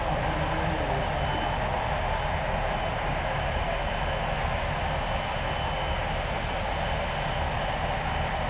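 A model railroad train runs along its track, giving a dense, continuous rolling rumble that holds steady and loud throughout, with no voices.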